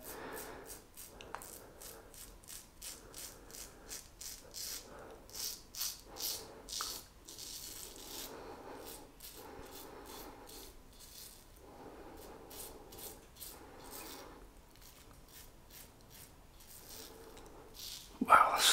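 A Merkur 34C double-edge safety razor scrapes across lathered stubble in quick repeated rasping strokes, close and fairly quiet, in rhythmic bursts with brief pauses throughout.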